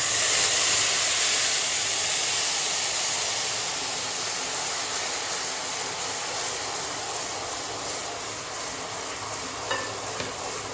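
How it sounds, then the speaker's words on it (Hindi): Sugar syrup poured onto roasted semolina for halwa in a pan over a lowered flame, a loud continuous sizzle and hiss that slowly eases, with a couple of faint clinks near the end and no talk. "अब हम इसमें शीरा ऐड करेंगे"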